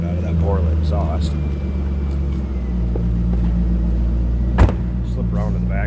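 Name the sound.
2003 Chevrolet Corvette engine through Borla exhaust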